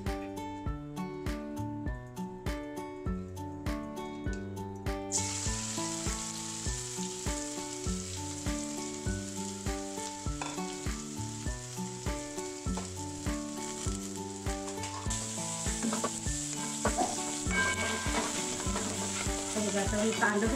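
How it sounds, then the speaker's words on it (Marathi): Chopped onion dropped into about two ladles of hot oil sizzles steadily in a pan while being stirred for veg fried rice, a bright hiss running under loud rhythmic background music throughout. "तेल आपलं गरम झालेलं आहे, त्याच्यामध्ये कांदा टाकते पहिला।"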